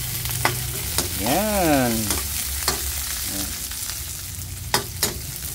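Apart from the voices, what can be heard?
garlic and onion frying in a pan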